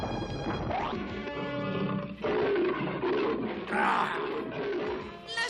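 A battle tiger in the Masters of the Universe cartoon lets out several loud, growling roars in close succession, rising and breaking off in bursts.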